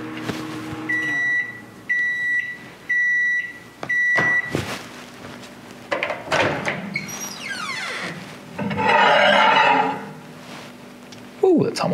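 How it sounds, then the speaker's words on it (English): A microwave oven running off a Bluetti AC300 solar power station with a B300 battery gives four evenly spaced, clear beeps when finished. Clunks, a door opening and some rattling follow nearby. "the microwave should be almost done"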